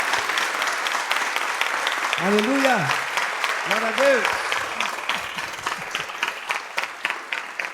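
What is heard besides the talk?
applause in a church congress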